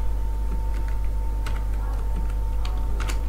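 A computer keyboard is typed on while data is entered into an MS Access database, giving scattered light key clicks in short irregular runs over a steady low electrical hum.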